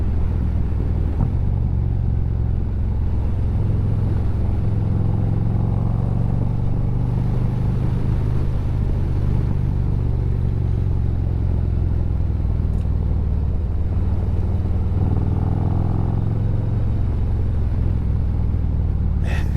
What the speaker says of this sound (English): even though this is a big bike, it still likes to play in the corners.